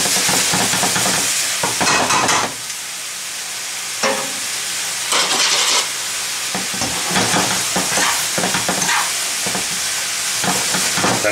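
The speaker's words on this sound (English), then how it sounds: "Gotta saute these up, keep it going." Vegetables for a vegetable lasagna are sautéed in a hot pan, giving a loud, continuous sizzle with repeated scraping and stirring strokes and short swells as the pan is worked, with no talk over it.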